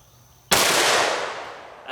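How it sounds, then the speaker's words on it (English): A single loud, sharp shot from a Kimber Camp Guard 10 pistol at an outdoor target, cracking suddenly and then decaying over more than a second, alone with no talk. "let's take 5 shots with it and see how it does"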